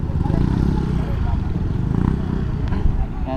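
Many motorcycles ride through a civic parade, their engines making a steady, rumbling drone with some clatter near the mic, while a voice talks over it.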